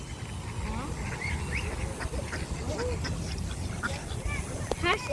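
Ducks quacking at the pond in Reid Park, Tucson, Arizona, repeated nearby calls scattered through the scene while people talk over the outdoor background.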